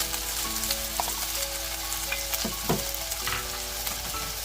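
Chicken stir-fried with ginger, garlic and hot sauce for Mongolian chicken crackles in a hot pan, a constant loud sizzle broken by a few stirring scrapes and clanks, close up, no talking.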